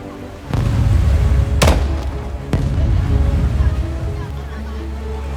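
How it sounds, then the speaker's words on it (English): Distress fireworks go off over the open ocean from a sinking ship: a few sharp, separate bangs, each followed by low rumbling, set against a dull background roar. "Yes, fireworks."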